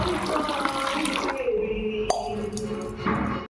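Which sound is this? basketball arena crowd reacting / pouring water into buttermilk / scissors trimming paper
pouring water into buttermilk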